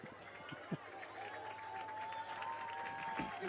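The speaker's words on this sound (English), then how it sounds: "Give a big round of applause" Crowd applause at a high school football playoff game, a steady wash of clapping and cheering from the stands with a sustained tone running through it and a few sharper bursts.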